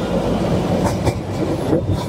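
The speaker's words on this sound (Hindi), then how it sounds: "टॉय ट्रेन की जो लाइन है नैरो गेज लाइन उसके साथ ही चल रहे हैं।" Darjeeling toy train running close by on its narrow gauge line, a loud steady rumble of wheels and carriage noise with rattling over the rails.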